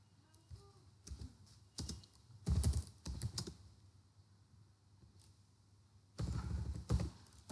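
Bursts of typing on a computer keyboard as a print statement is entered in a Python terminal, with close, fast clusters of key clicks separated by pauses.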